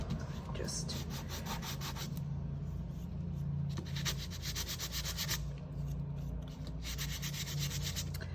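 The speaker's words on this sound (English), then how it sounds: "And what I do next is I will sand the edges." An epoxy resin geode coaster gets its edges sanded by hand in repeated back-and-forth strokes, each a soft gritty scrape of a second or two, fairly quiet and close.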